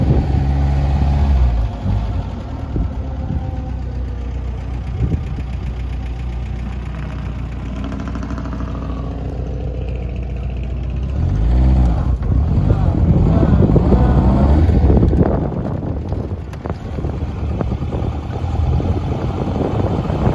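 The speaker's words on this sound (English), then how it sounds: "People today aren't accustomed to the sounds of tappets on an engine." A 1955 MG TF1500 engine idles cold and slightly stumbly, a steady low rumble with a light tappet clatter, swelling louder in the middle before settling back.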